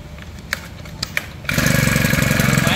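A four-stroke petrol lawn mower, sold as a used Japanese import, sits quiet with a few clicks and taps, then its engine catches and runs steadily at close range with a loud, even throbbing drone.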